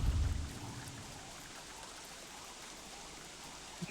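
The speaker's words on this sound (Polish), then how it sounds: "jest burza." Steady rain hiss during a thunderstorm in the video game Don't Starve Together, opening with a low rumble that fades into even, moderate rainfall with no talking.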